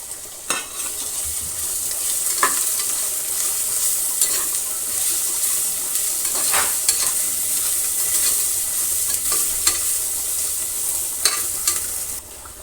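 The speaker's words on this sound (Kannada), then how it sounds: "ಈಗ ಎರಡು ಸ್ಪೂನಷ್ಟು ಶುಂಠಿ ಪೇಸ್ಟು ಎರಡು ಸ್ಪೂನಷ್ಟು ಬೆಳ್ಳುಳ್ಳಿ ಪೇಸ್ಟನ್ನು ಹಾಕ್ತಾಯಿದ್ದೀನಿ" Ginger and garlic paste sizzles steadily in a pan alongside onions for chicken biryani, with intermittent scraping stir strokes cutting through the constant hiss, close and moderately loud, no talking.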